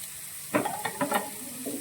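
Chopped onion sizzling in a hot pan for paneer butter masala, a steady frying hiss with several clattering stirring strokes over it, close and moderately loud, no talk.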